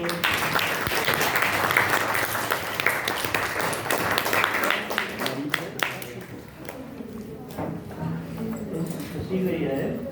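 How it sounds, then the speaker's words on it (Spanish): Classroom applause from a group of students, broadband clapping that fills the room and runs steadily throughout, loud and dense, then thinning somewhat toward the end with a few voices underneath. "un aplauso, compañeros"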